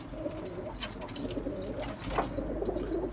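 Pigeons coo softly in repeated low, throaty phrases during a night feeding, with short higher calls recurring at regular intervals over a quiet background.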